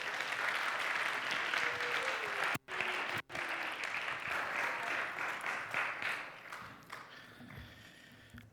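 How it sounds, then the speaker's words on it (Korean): A church congregation claps to welcome a pastor at a Sunday service, dense, sustained applause filling the room, briefly cutting out twice, then thinning into scattered claps as it fades toward the end. "우리 목사님 환영의 박수 한번 해주시면 좋겠습니다."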